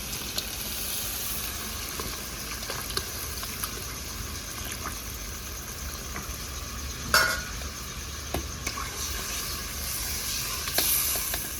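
Water poured into simmering gravy in a pan for a village-style taro dish, a steady close sizzle and bubbling with occasional splashes and stirring knocks.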